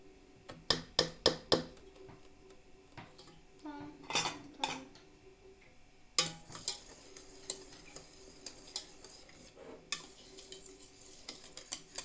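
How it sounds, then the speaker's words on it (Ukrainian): A wire whisk beats sour cream in a bowl for homemade ice cream, giving quick rattling clinks against the side followed by irregular tapping and scraping, close and moderately loud, with quiet background noise. "Я краще візьму вінчик і все."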